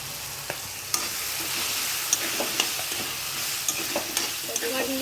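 Potatoes and tomatoes sautéing in oil, stirred briskly with a spoon against the pan, giving a continuous sizzle broken by regular scraping clicks and knocks, close and clear, no voices.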